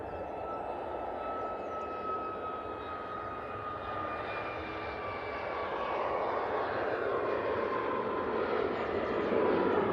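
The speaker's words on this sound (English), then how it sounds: "Okay, we've got this Ryanair. It's 737 MAX 8," A Ryanair Boeing 737 MAX 8 bound for Malaga takes off at Manchester Airport. Its engines give a distant, steady roar that builds slightly toward the end, with no talking.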